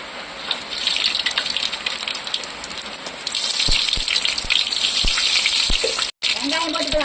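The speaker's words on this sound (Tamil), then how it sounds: "எண்ணெய் காஞ்சிச்சு, கடுகு போட்டுக்கலாம்." Mustard seeds dropped into hot oil in a village kitchen during heavy rain, a steady gushing sizzle that jumps louder partway through, broken by sharp crackling pops, with a brief cut to silence near the end.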